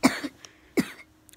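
Two short, sharp coughs close by, separated by a brief pause, with faint small noises between them.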